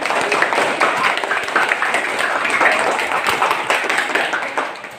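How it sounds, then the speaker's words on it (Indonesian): A primary school class claps for the third group, a sustained run of scattered hand claps of even loudness, with voices mixed in beneath. "Tepuk tangan dulu untuk kelompok 3."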